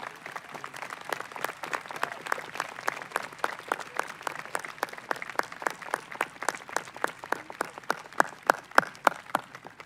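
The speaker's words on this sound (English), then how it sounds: "give them a huge round of applause." Applause at a high school commencement ceremony, a large outdoor-sounding crowd clapping in a fast, even rhythm with sharp repeated claps standing out over a steady background wash, sustained throughout.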